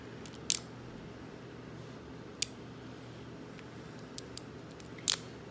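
Sharp metallic clicks from an off-brand cabinet lock being picked with a modified key, a few isolated ticks spaced over several seconds against a quiet background.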